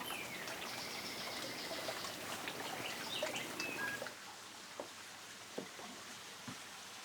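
Water trickles and splashes steadily in a shaded backyard water garden, with a fuller wash at first that thins to soft, scattered drips and faint bird calls. No one speaks.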